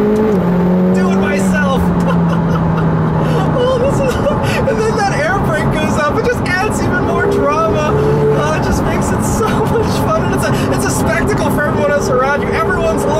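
A 2018 McLaren 720S revs and drops gears on the paddle shifters, the engine note rising and falling with sharp shift changes. Loud, busy engine noise with road and crowd-like background, and a person talking in the car.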